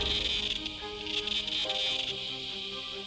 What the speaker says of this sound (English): When millions of cicadas click in the forest, it resembles the sound of a jet plane or a circular saw working.